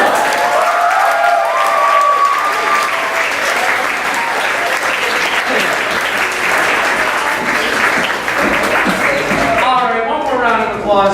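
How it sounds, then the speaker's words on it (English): A comedy club audience at a stand-up show applauds loudly and steadily for the whole stretch, a dense wash of clapping with some cheering, and a voice speaks over it near the end. "Applause for that."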